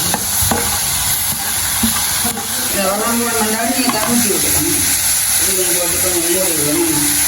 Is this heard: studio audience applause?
no